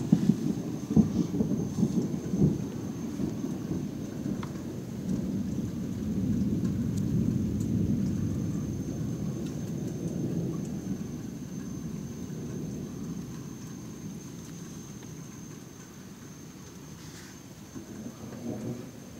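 A thunderstorm rumbles with low, rolling thunder over a steady wash of rain, peaking in the middle and easing toward the end, with no voices.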